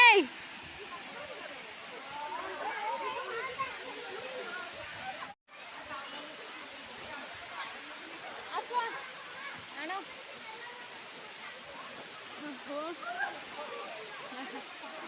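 A steady, rushing roar of a waterfall in Deojhar fills the whole stretch, with faint voices talking over it.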